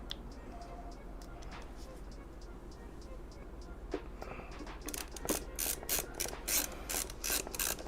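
A long screw being driven into a tiny 4.3-litre travel PC case makes soft ratcheting clicks, growing into quick, louder rhythmic ticks in the second half, close by.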